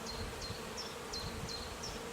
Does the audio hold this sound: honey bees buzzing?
yes